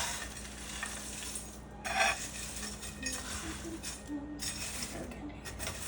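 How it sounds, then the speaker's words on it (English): Chex Mix being stirred in a stoneware dish, a close rustling, scraping rattle of dry pieces with a few louder scrapes and light clinks, faint voice in the background. "So I think that is stirred up pretty good here."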